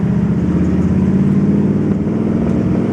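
A 1955 Ford Crown Victoria's engine revs up steadily and loudly, its hum rising as the car gains speed, with no voices.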